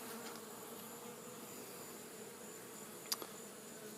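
Honey bees swarming around a nuc box produce a faint, steady outdoor buzz that hums evenly throughout, with one brief sharp click near the end.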